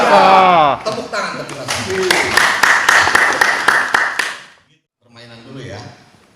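An audience at a radio contributor training session claps in a quick rhythmic burst of roughly a dozen beats, preceded and followed by a voice talking.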